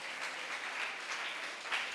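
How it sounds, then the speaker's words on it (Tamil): A church congregation claps steadily in a dense, sustained burst of many hands in a reverberant hall, lasting the whole moment without a pause. "விசுவாசிக்கிறவங்க நல்ல கையை தட்டி ஆரவாரம் பண்ண"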